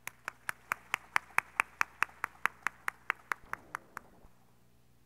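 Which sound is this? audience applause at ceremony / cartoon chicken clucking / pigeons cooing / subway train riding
audience applause at ceremony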